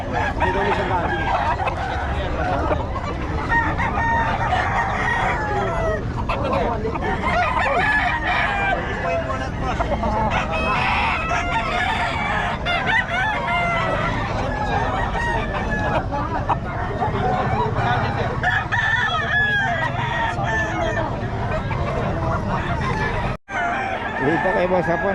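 Roosters of a Nueva Ecija flock crow and cluck repeatedly at close range on a hot day, with a steady din of birds and faint background chatter throughout.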